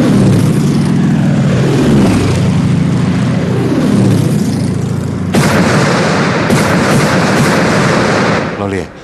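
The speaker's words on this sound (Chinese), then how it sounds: "挨炸了" Aerial bombing in a historical TV drama: droning aircraft with falling whistles, then a sudden loud explosion that breaks into a sustained, roaring rumble of blasts and debris.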